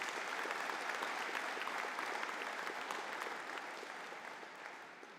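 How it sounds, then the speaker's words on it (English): Steady applause from an audience at a university engineering and technology conferring ceremony, fairly distant and soft, a continuous patter of many hands that slowly fades. "I think they deserve a round of applause as well,"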